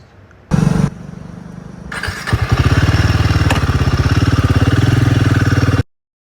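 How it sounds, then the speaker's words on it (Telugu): A white Royal Enfield Himalayan 450 Kamet motorcycle cranks with a brief starter whir, catches and settles into a loud, close, steady thumping idle before cutting off. "స్టార్ట్ చేస్తున్నాను బండి."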